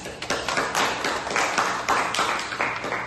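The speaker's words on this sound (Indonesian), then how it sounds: "Silakan beri aplaus dulu semuanya" A classroom group claps together in sustained, dense applause after a student presentation, steady and fairly loud throughout with no talking over it.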